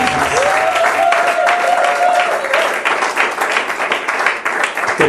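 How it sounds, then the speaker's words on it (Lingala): A church congregation claps hands in praise of Jesus, a dense, steady burst of many hands applauding together throughout, with a sustained sung or spoken tone rising over it near the start. "Clap your hands for the Lord Jesus."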